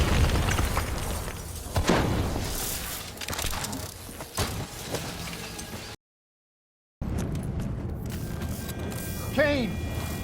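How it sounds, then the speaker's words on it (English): Detonating robots in a Call of Duty Black Ops 3 cutscene set off booming blasts with mechanical clanks and bursts, loud and close, mixed with voices before a brief silent gap and a whirring electronic tail. "They're about to detonate!"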